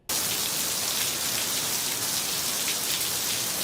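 Heavy overnight rain pours down on Hawaii Island, a dense, steady hiss of downpour that starts abruptly and stays loud and continuous with no voices.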